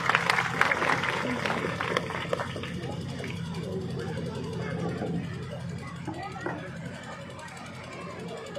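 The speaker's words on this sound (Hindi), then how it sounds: "जोरदार तालियां बजा करके श्रीमती नैना चौटाला जी का स्वागत करें" A rally crowd claps and cheers to welcome Smt. Naina Chautala, with dense applause loudest in the first couple of seconds and then settling into a steady babble of crowd noise.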